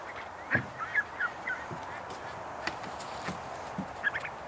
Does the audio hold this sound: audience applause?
no